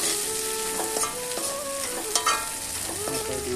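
Peas sizzling in hot oil in a pan as they are stirred, a steady close frying hiss with scraping utensil strokes and occasional clinks against the pan.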